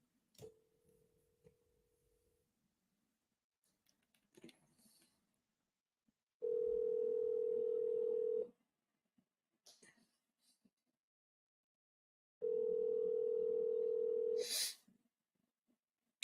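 A phone handset ringback tone heard while calling a number, two long steady buzzing tones a few seconds apart with quiet pauses and faint rustling between them, close and clear.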